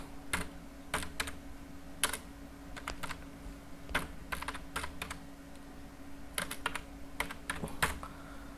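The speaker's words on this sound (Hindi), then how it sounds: "कीबोर्ड से की प्रेस करना है वो होता है कंट्रोल प्लस पेज अप या पेज डाउन" Computer keyboard keys pressed in quick irregular clusters of clicks and taps, close and fairly quiet over a low steady hum, including Ctrl and Page Up presses.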